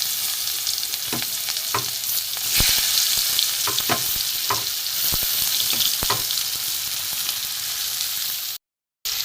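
Onions fry over high flame in a little oil with nigella seeds, giving a loud, continuous sizzle up close. Repeated spatula scrapes and taps run through it, with no talking.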